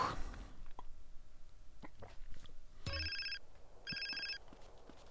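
A mobile phone rings in the video game GTA San Andreas: two short electronic trilling bursts about a second apart over quiet game ambience, after a few faint clicks.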